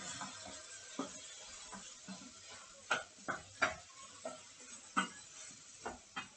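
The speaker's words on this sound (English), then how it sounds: "then you're going to stir that round the chicken" A spoon scrapes and knocks in a pan as green curry paste is stirred through chicken for a Thai green curry, giving a run of sharp, close clicks and scrapes, some louder than others, over a faint steady sizzle.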